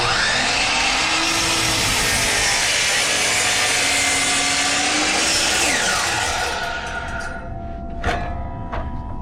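A saw cuts a wooden board held against the fence, a loud continuous whine and rasp that shifts pitch as it loads, then spins down to a few light clacks and knocks.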